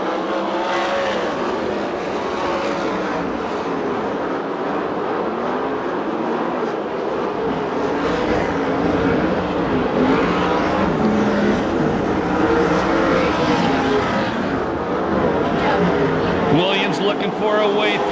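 USAC/CRA sprint cars race at Perris, California, a steady roar of several engines throughout with no let-up, while a commentator talks over the noise.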